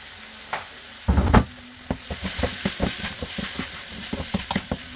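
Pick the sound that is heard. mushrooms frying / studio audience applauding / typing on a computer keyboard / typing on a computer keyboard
mushrooms frying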